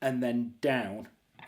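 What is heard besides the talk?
No distinct noise like a dog, phone or traffic.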